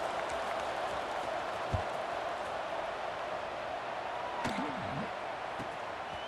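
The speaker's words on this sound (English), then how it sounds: "this crowd is buzzing after that last score" Simulated stadium crowd in EA Sports College Football 26 during a Miami versus Southern Mississippi game, a steady buzzing murmur of cheering fans with a few faint thuds and a brief whistle-like sweep near the end.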